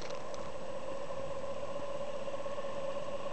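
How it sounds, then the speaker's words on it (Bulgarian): A three-phase asynchronous induction motor runs on an SPWM frequency drive, giving a steady, faint whine with a sustained tonal hum and constant background noise, no voices. "Ето и двигателят даже се върти."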